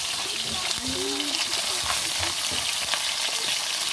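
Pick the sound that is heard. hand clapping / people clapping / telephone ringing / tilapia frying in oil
tilapia frying in oil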